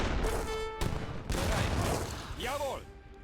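A fixed gun emplacement firing during an Age of Empires III battle, bursts of gunfire and booms mixed with game effects, fairly loud and dense.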